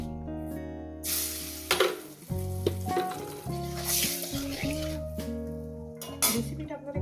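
Rohu fish curry being cooked in Bengali style: hot oil sizzles and fries in a pan as salt goes in, with clinks of a metal spoon against the pot and a voice talking over the cooking.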